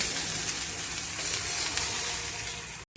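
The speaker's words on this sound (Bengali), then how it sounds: "সমস্ত কিছু দিয়ে ভালো করে নেড়ে নেব।" Fried rice stirred in a pan after adding salt, sugar and ghee gives a steady close sizzle and frying hiss throughout, ending abruptly, with no talking.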